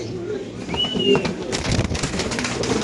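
Caged pigeons coo in short bursts close by, mixed with clattering movement and someone talking over them.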